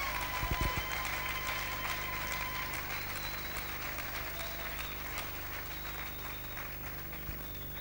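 A church congregation applauds to acclaim God at an evening service, a dense, steady wash of many hands clapping, loudest at the start and holding on evenly to the end with no speech over it.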